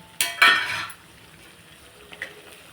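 Masala gravy sizzles in hot oil in a pan, two sharp stirring scrapes up front followed by a low, quiet fry and a couple of faint clinks.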